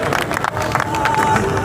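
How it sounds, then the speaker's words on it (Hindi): Crowd at a protest outside a civil secretariat in Lahore breaks into applause and cheering, a dense, steady roar of clapping with babble mixed in, close and fairly loud. "उनके लिए भरपूर तालियां।"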